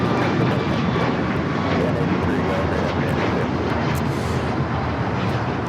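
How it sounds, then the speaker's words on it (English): An Alaska Airlines Boeing 737 MAX 9 jet roars loudly and steadily on its takeoff run at Los Angeles International Airport, a dense continuous engine rumble filling the scene. "This is Alaska Airlines 1083 taking off to Seattle on the MAX 9."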